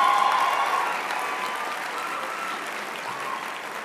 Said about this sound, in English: please give a round of applause for the graduates from the Culinary Management Program